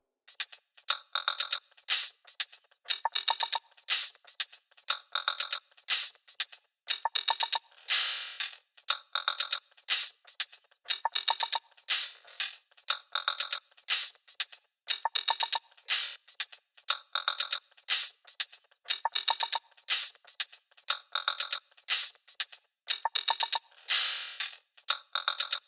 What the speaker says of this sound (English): The sounds we've got in here are 2 alternating closed hi-hats